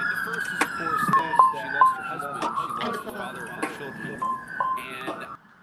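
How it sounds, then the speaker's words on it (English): An ambulance siren wails steadily in the distance, faint and wavering, while a person talks over it with scattered clicks and knocks nearby. "Actually, no, that's the ambulance."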